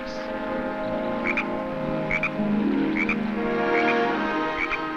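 A steady chorus of frogs croaking, deep droning calls under a handful of sharper, higher chirps repeating roughly once per second.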